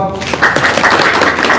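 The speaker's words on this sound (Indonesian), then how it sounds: "Tepuk tangan dong" Audience applause after a talk in an Indonesian gathering, a dense patter of clapping rising sharply and holding steady for over a second, loud and close, with voices mixed in.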